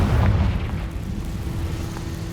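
The Confringo blasting spell goes off in Hogwarts Legacy as one deep, rumbling explosion. It booms loudest at the start and then decays into a long low roar.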